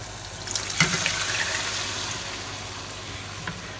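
Annatto seeds being squeezed by hand in a bowl of water to release colour for pancit palabok sauce, close soft sloshing and splashing with a few sharper wet clicks, fairly quiet and without talk.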